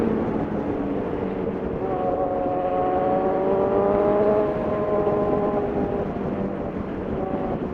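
A truck passes during a Suzuki GSX-R1000 motorcycle ride in Aurora Province, Philippines, its engine drone rising and then falling in pitch over several seconds beneath the steady roar of the bike and wind.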